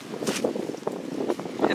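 Wind gusting through a low, somewhat sheltered garden bed of spring bulbs, heard as uneven buffeting rushes against the microphone that rise and fall in short bursts, with no one speaking.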